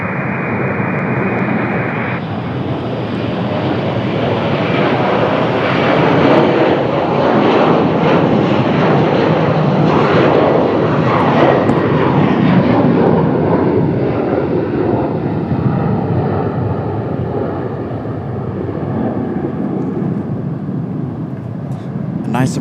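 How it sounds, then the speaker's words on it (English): A Korean Air Boeing 777-300ER takes off with a loud, sustained broadband jet roar that holds strong and steady throughout, and talk sits underneath it. "Nice surprise out of the Korean 777-300ER"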